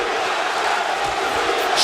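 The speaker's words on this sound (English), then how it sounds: "listen to this crowd" A boxing arena crowd at a heavyweight fight roars continuously in a dense, steady wash of cheering and shouting, loud and close throughout the short moment.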